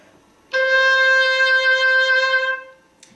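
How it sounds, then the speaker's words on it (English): An oboe sustains a single clear, reedy note for about two seconds, close up and steady, fading out at the end. "The oboe, it's a member of the woodwind family,"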